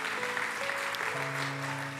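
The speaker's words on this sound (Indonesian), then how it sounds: "Yang percaya tepuk tangan dulu yang meriah buat Tuhan kita." A church congregation applauds during a night of worship service, steady clapping filling the space for the whole moment with faint tonal music underneath.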